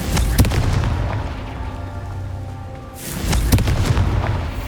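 The Confringo spell explodes in the video game Hogwarts Legacy with a loud, booming blast and sharp cracks, fading to a rumbling tail before a second burst of impacts follows.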